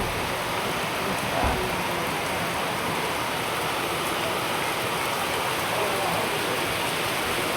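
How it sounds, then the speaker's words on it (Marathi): Heavy rain pours down steadily outdoors, a dense continuous hiss of downpour close around the listener with no pauses. "डेंजर पाऊस पडतोय"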